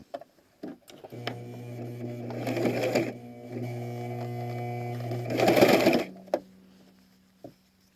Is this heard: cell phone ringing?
no